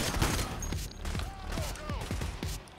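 Rapid gunfire in the video game PayDay during a diamond heist, a dense fusillade of sharp overlapping shots in quick bursts, loud and close, with a player's voice speaking over it.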